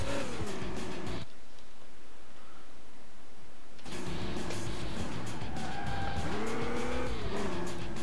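A game car in Alarm für Cobra 11 Highway Nights skids sideways with loud tire squeal and engine roar, cutting out briefly mid-slide before the screech and revving return, close and continuous.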